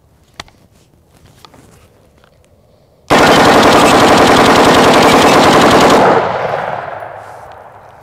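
A 30-round burst of 5.56 rifle fire hammers AR500 body armor, a loud, rapid, uninterrupted string of shots lasting about three seconds and then echoing away outdoors.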